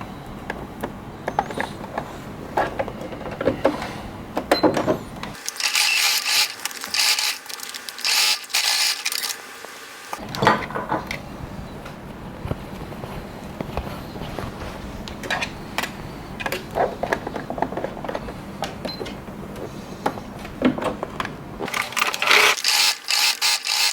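Sewing machine top stitching a facing on harem pants, a close rapid mechanical clatter in two long runs with quieter pauses and handling noise between.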